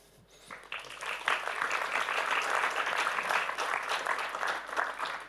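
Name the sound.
audience applause for panel members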